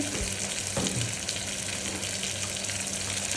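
Ginger garlic paste fries in a pressure cooker for gongura chicken, giving a steady, fairly loud sizzling hiss with a faint stir or knock near the start and no talking.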